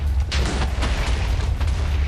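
Blocks of TNT blowing up in Minecraft, a rapid chain of loud, close booms rumbling one after another across the whole stretch.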